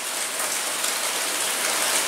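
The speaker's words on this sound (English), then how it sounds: "it's raining again" Steady rain falls during a Missouri downpour, a dense, continuous hiss of drops hitting surfaces close by, even and unbroken throughout with no voices.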